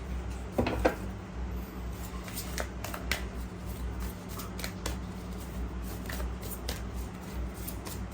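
Tarot cards being shuffled close by in a quiet room, a run of soft riffling flicks and light papery snaps repeating steadily for several seconds, with no voices over them.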